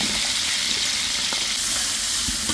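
Steady, dense sizzling of about 300 g of onions frying in hot oil with green chillies for mandi, loud and close, with a continuous crackling hiss and no voices.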